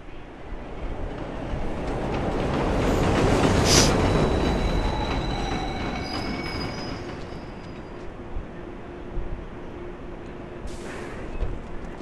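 Trains roll through the Pelham train yard in The Warriors video game, a long continuous rumble with clattering wheels that swells and fades, a wheel squeal and some metallic screeches, heard alone without talk.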